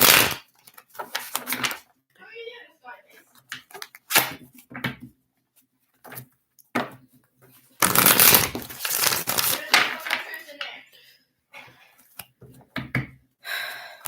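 Tarot cards being shuffled in bursts of dry riffling and flicking, with short pauses between and one longer, louder shuffle in the middle; fairly close and fairly loud, with no voice over it.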